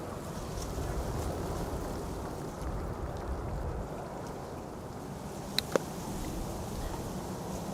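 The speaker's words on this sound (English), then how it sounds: "The wind is blowing from the south" Steady wind blowing at Amsterdam Schiphol Airport during Storm Bert, a continuous broadband roar with gusty texture and no speech, plus two brief faint clicks near the end.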